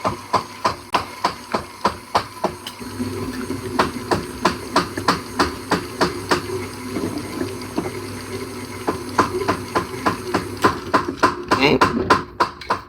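Cheese ball mixture with pineapple being beaten in a mixer, heard as a fast, regular thumping and clatter that runs steadily throughout, with a voice speaking over it.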